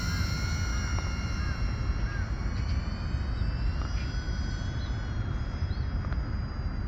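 A light Pavo20 Pro 2 FPV drone with an O4 Lite camera flies near the Han River. Its propellers make a continuous high whine with shifting pitch as it manoeuvres, loud and steady.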